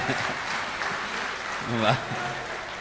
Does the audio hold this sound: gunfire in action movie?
no